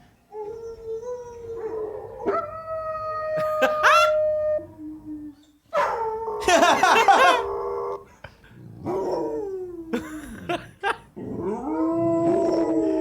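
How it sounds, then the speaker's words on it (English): Dogs watching the film Zootopia howl, whimper and yelp close by in long rising and falling wails. The cries come in several bursts with short pauses between them, and no one talks. "This is it's dogs watching Zootopia."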